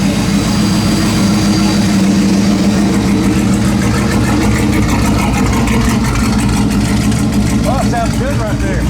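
Turbocharged LS engine in a car running steadily at idle, a loud continuous low rumble filling the whole stretch, with voices talking over it.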